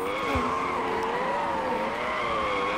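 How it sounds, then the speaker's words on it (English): A car drifting in the game Extreme Driving, tires squealing in a loud, sustained, wavering screech that rises and dips as the slide continues, heard up close with no talk. "Look at that drift."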